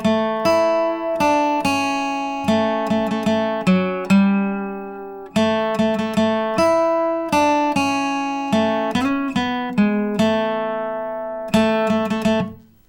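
Flatpicked acoustic guitar playing the fiddle tune Old Joe Clark plainly, without ornaments, each note picked cleanly in a steady bouncing rhythm, loud and close, with a short pause midway.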